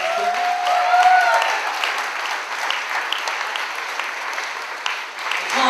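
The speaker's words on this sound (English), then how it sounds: "Round of applause for them for putting on tonight's event." An audience at a Texas BBQ opening reception gives a round of applause for sponsor CAE Healthcare, steady mid-distance clapping across the room that tapers slightly before picking up again at the end.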